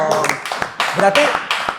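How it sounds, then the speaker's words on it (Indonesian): Audience clapping at an Indonesian student organization talk, a short burst of uneven claps lasting under two seconds, mixed with talking and cheering voices. "Tepuk tangan dulu dong."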